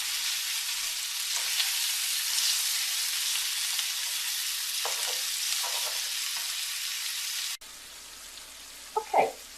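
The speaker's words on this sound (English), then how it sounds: "I'm going to just break this up, brown it up, get it nice and brown." Sausage fries loudly in a pan as it is broken up and browned, a dense steady sizzle with occasional scraping, then the frying cuts out and a few brief clatters follow.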